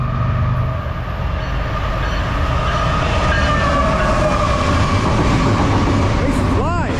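A long CSX freight train rolls past loud and close at speed, a continuous heavy rumble with rhythmic wheel clatter, and a short horn-like tone near the end.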